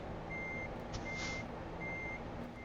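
A truck in American Truck Simulator sounds evenly spaced electronic reversing beeps, three or four in a row, over a low engine idle while it backs into a parking space.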